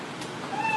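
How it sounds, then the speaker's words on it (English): A short recorded cat meow sound effect plays on a live comedy stage, a single bright mew heard on its own over faint room noise. "You know 1 minute's up when you hear the sound of a kitty."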